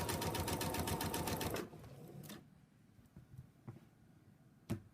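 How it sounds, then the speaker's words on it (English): A sewing machine stitches fabric in a fast, even run of close, loud needle beats for about one and a half seconds, then falls quiet apart from a few soft clicks and one sharp tap near the end. "sew this bit on."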